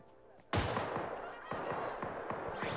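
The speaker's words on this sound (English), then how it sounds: "Someone's still shooting." Gunfire in a social deception first-person shooter video game: one loud blast followed by a run of repeated shots, close and reverberant, with faint voices underneath.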